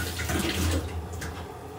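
Tap water running over fresh ginger in a sink, a close, steady splashing rush that eases slightly toward the end, with no talking.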